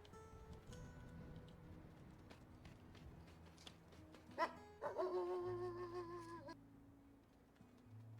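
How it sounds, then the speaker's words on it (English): Wolf pups in the WolfQuest game let out a cluster of small, high, yipping barks midway through, a brief excited flurry over quiet background game sounds and footsteps. "I love their little puppy barks"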